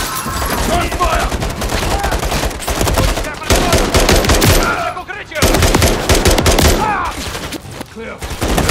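Rapid automatic gunfire from the video game Call of Duty: Modern Warfare 3 rattles in loud, dense bursts almost without pause, with a brief lull in the middle and voices shouting underneath.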